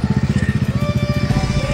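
Superbikes such as a Kawasaki Ninja H2 and ZX-10R pass on a road between Assam and Agartala, their engines throbbing in a steady, pulsing rumble that stays loud and close throughout.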